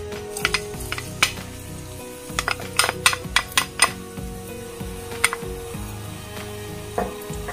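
Garlic sizzles in hot oil in a frying pan, a steady close frying hiss broken by sharp clinks and scrapes of a utensil against the pan, with no one speaking.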